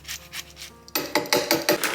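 Half a lemon scraped against a zester, a rapid series of close, raspy strokes in a regular rhythm, faint at first and then louder.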